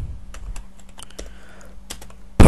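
Computer keyboard keys tapped in quick, irregular bursts at close range, sharp clicks with brief pauses, ending in a louder burst; no talking.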